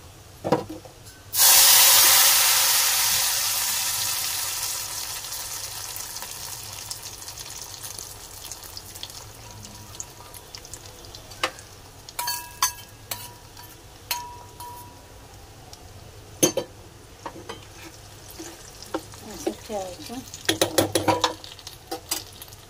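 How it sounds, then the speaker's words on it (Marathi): A loud sudden sizzle as hot tadka (tempering) hits chutney, fading to a steady hiss and then giving way to spoon clinks and stirring. "आता ह्या चटणीत तडका टाकूया."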